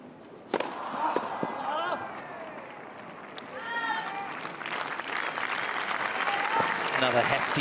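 Wimbledon tennis crowd applauding and cheering during a tight match, a steady wash of clapping that swells toward the end with sharp claps standing out near the start, mixed with a commentator's voice.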